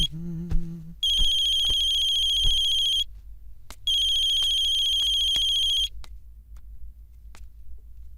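An electronic telephone ringtone sounds in two long, loud bursts of about two seconds each with a pause between, preceded by a short tone and scattered faint clicks in a quiet room.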